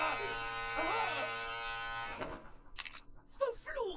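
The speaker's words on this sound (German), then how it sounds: "Gut, dass ich meinen Rasierer noch nicht weggeworfen habe." An electric razor drones steadily, shaving hairy legs in the video game Deponia Doomsday, a loud close buzz for about two seconds before cutting off, followed by voices crying out in pain.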